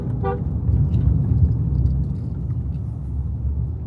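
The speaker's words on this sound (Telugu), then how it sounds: "సో హార్న్ బ్లో చేసుకొని వెళ్ళాలి జాగ్రత్తగా" A short car horn toot sounds once near the start over a constant engine rumble from inside a vehicle moving along a curving road to Simhachalam Temple, Vizag.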